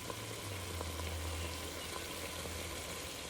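Vegetables and bacon sizzle steadily in a pan with beef stock, a constant close frying hiss with a low simmering undertone and no talk.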